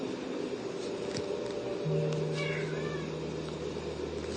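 A house cat gives a brief, faint meow halfway through, over a steady low indoor hum in a room where slippers are being knitted.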